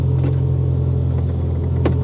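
A 2008 Toyota RAV4 with a delayed drive and reverse automatic transmission idles steadily, a low, even engine hum with a brief faint clunk near the end as it is shifted into drive.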